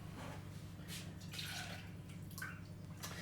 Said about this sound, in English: we're going to want 200 mils of full fat milk, whole milk. Okay, so in that goes.